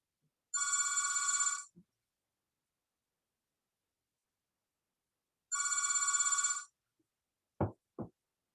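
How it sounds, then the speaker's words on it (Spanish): Two long electronic telephone ring bursts, each about a second, separated by several seconds of silence in a physics lecture hall, followed by two short knocks. "Denme que suena el teléfono"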